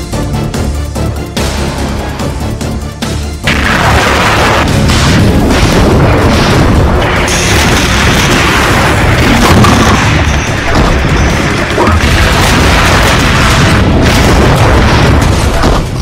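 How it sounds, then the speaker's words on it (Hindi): Heavy booming blasts from missile strikes in the city of Kharkiv during wartime, a loud dense roar that erupts after a few seconds and sustains with rumbling bursts and crashes to the end. "मिसाइल धमाके से दहल रहे खार्किव में भीषण संग्राम छिड़ा है।"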